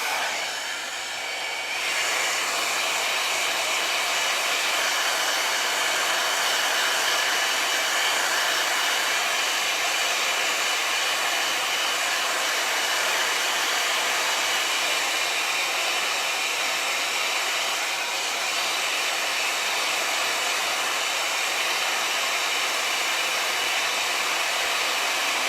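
A Le Volume 60 mm 2-in-1 volumizing brush dryer runs steadily on short curly hair, giving a loud, continuous airy whoosh close to the microphone that holds nearly unchanged from start to finish after a brief quieter opening.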